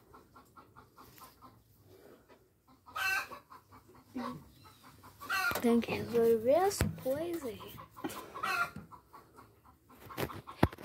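A rooster clucks on and off in a rainy yard near its feed and water, short throaty calls close by amid talking voices.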